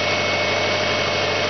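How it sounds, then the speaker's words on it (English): A 2002 Subaru Legacy running a swapped-in EJ22 engine in place of its EJ25 idles in the cold, slightly high at around 900 to 1100 rpm, as a steady, close, unbroken drone with no talk. "it's idling at about 900 to 1100 at times"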